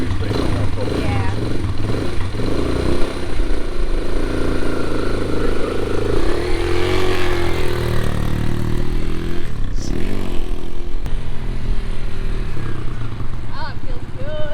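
A Kawasaki KLX140R dirt bike engine runs nearby while warming up, a continuous buzzy motor note with some revving swells and clatter, with people talking over it.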